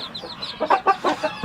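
Chickens and young chicks cluck at a rural farm coop, a run of short, fairly close clucks and peeps in a steady, uneven rhythm, with no talking.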